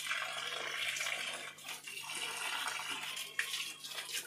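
Water pours steadily onto potted garden plants to cool them in hot sun, a close, continuous splashing and trickling with small surges and spatters throughout, no voices.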